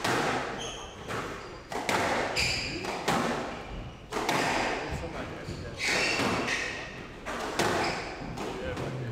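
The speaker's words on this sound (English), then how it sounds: "Very hard hitting rally so far." Squash balls are struck hard during a fast professional rally at the PSA Challenger Tour Panmure Tecnifibre Open, giving a quick run of sharp thuds and smacks. The hits echo around the court, with voices murmuring underneath.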